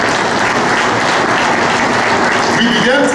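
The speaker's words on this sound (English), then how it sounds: "I think we can give him a round of applause." Audience applause at a State of the Capital address, a dense, steady burst of clapping from a large crowd filling the whole moment.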